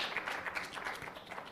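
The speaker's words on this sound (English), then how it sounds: "Can we please give him a huge round of applause?" Audience applause at a workshop for content creators, a steady wash of many hands clapping indoors, moderately loud and continuous throughout.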